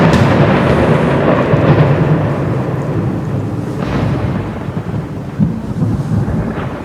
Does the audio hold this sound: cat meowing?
no